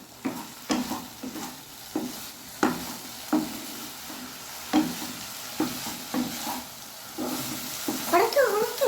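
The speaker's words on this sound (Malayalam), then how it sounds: "ഇനി നമുക്ക് നമുക്കത് മിക്സ് ചെയ്യാം." Food frying in a pan is mixed with a spoon, giving repeated scraping stir strokes over a steady low sizzle, with a voice briefly speaking near the end.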